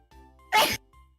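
A single loud, close sneeze bursts out sharply against a quiet background.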